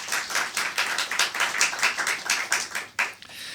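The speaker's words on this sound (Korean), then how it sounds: "우리 하나님께 영광의 박수 한번 올려드리겠습니다." A church congregation at a Sunday worship service claps together in a steady, rhythmic burst of many hands that fades out near the end.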